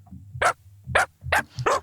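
A recorded dog bark sample played back on an Arturia MicroFreak synthesizer gives four evenly spaced, punchy barks, close and dry, with a low tonal hum between them and no talking.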